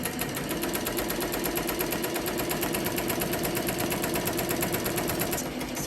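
A Ricoma MT 1501 embroidery machine stitches a dad hat, its needle hammering in a fast, steady, even rhythm at close range, loud and unbroken throughout with no talking.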